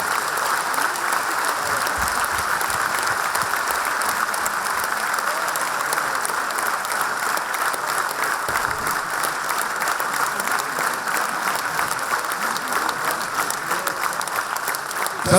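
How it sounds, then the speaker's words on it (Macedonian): A crowd claps steadily and loudly at a 35th anniversary celebration for the VMRO-DPMNE party branch in Kumanovo, a dense unbroken roar of applause filling the whole stretch. "ве замолувам за еден громогласен аплауз"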